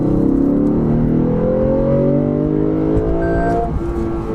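V8 engine of a 2020 Lexus GS F revving hard toward red line in manual shift mode, pitch rising steadily as a loud close roar before dropping off at the end.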